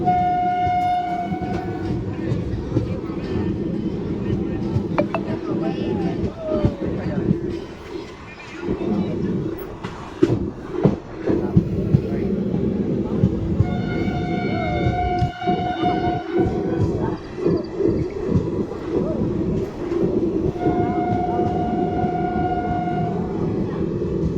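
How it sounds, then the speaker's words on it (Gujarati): The Bhavnagar–Porbandar passenger train runs from Jetpur toward Jetalsar with a continuous rolling rumble and clatter of wheels, punctuated by several long horn blasts spread across the run. "જેતપુરથી એકદમ રાઈટ ટાઈમ નીકળી ગઈ છે ટ્રેન"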